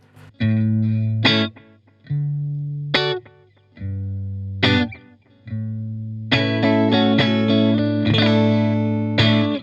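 Sustained electric guitar notes and chords through a Cooltone Echoverb delay pedal, each ringing out with a soft wash of ambient space trailing behind, building to fuller strummed chords toward the end.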